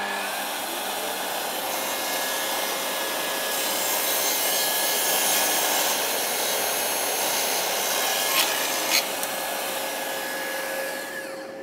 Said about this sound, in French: Je positionne sur ma butée et procède à la coupe.